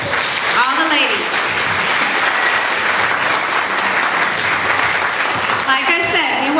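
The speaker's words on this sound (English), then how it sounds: "And I want all of us to give ourselves a round of applause." Round of applause from a women's empowerment mastermind audience, dense steady clapping throughout, with voices and a cheer or exclamation rising near the start and again at the end.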